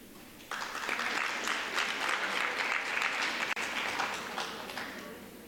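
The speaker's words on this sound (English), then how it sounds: "Give him a bigger round of applause than that" An audience at a university inauguration celebration breaks into sustained applause after a short lead-in, a dense, steady wash of clapping that carries on for several seconds before easing off.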